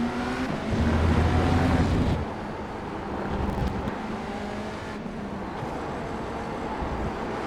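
Race car engines roaring through GT3 traffic in a racing game: a loud, steady engine drone with a rising pitch early on, then a lower sustained hum as other cars pass around, continuous throughout with no talk.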